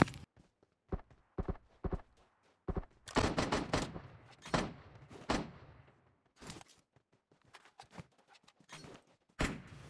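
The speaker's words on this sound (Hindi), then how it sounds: "तब पीछे से गोली का साउंड आया" PUBG Mobile gunfire on the Livik map comes as sharp single shots and short bursts, some isolated and some clustered, with quieter footstep-like taps in between.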